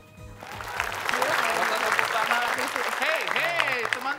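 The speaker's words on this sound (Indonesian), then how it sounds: "Hey, teman-teman, gak usah tepuk tangan." Audience applause at an Indonesian comedy stage show with a home band, steady clapping swelling after the first second and holding loud, with voices over it.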